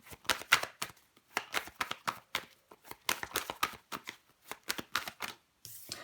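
Tarot cards shuffled by hand, a rapid series of crisp riffling bursts in an irregular rhythm, close and clear, with brief pauses between runs and no speech.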